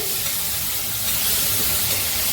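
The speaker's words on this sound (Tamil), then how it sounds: "இப்போ இதை வதக்கிட்டு" Coriander, curry leaves and green chili fry in a pan of hot oil, giving a dense, steady, close sizzle and hiss that runs the whole time with no voices.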